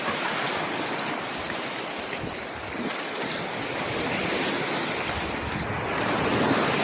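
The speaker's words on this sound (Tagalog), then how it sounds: "Wow, sarap ng alon." Sea waves wash and break continuously on a beach at Paklasan, Rojas, a steady broadband roar of surf with some wind noise on the microphone, alone without talk.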